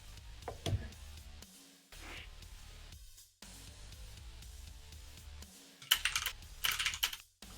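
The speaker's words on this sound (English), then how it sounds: "Looks like somebody else is typing it." Rapid keyboard typing clatters through the stretch, close and fairly loud, with bursts of key presses during a Quake duel broadcast.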